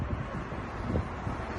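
Outdoors, wind buffets the microphone in a steady, loud rumbling roar with small gusty swells.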